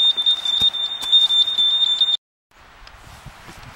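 An electronic beeping ball used in beep kickball for vision-impaired players emits a steady high-pitched tone with rapid pulsing, loud and close, then cuts off abruptly before faint field noise resumes.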